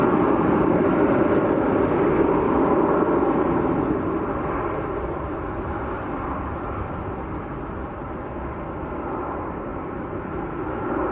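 An Airbus A330 airliner taxis away toward the far side of the field, its engines making a muffled, steady rumble that fades slightly as it rolls off, with no voices.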